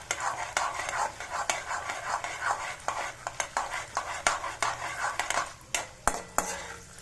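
Peanuts, chana dal, urad dal and a dried red chilli dry-roasting in a pan, with rhythmic scraping and clinking of a spoon stirring them over a faint, steady crackle, close up.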